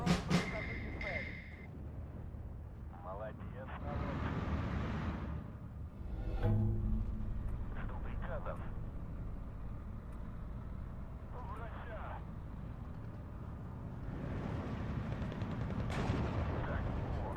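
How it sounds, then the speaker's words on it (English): Bombs of 100 kg dropped by a Tu-2S bomber in the Steel Division 2 World War II strategy game thunder as repeated deep explosions and artillery-like blasts, with a voice talking over much of the battle noise. "let's bring in the Tu-2S with the 100 kilogram bombs"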